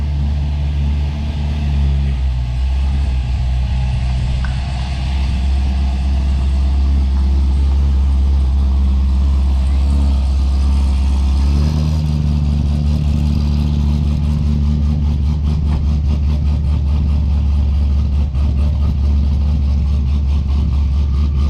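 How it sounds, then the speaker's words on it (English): A C6 Grand Sport Corvette on new sticky drag tires, engine idling loudly then revving harder before a burnout, a deep continuous rumble with no talk. "But Kohen is going to go for a burn. On his new sticky tires, it's going to pick up all his gravel"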